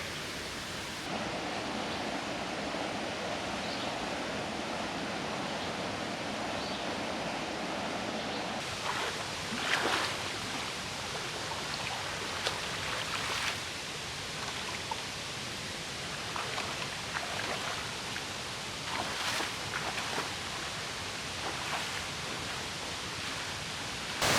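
Shallow stream in the Ozarks running over a series of small waterfalls, a steady broadband rush of water close by with occasional splashes and rustles, no voices.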